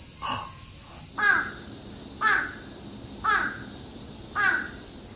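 Crows in Japan cawing: four loud, evenly spaced harsh caws about a second apart, close by, with soft background noise between them.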